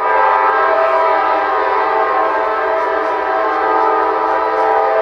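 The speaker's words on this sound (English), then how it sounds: "Norfolk Southern Train NS" A Norfolk Southern freight train horn blares loud and steady in Atlanta or Austell, Georgia, one long sustained chord held for the whole stretch with rail rumble underneath and no talk.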